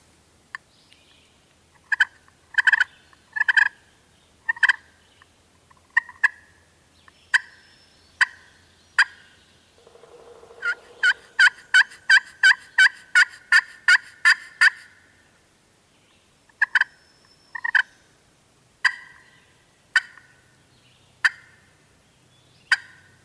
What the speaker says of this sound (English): Use a slate call. This is the Black Magic.